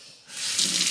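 Running sink water starts up as something is washed under the tap, a steady close hiss that swells and stays loud.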